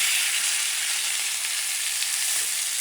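Steak searing in hot high smoke point oil such as avocado or canola, a steady close sizzle and frying hiss running unbroken with no voices.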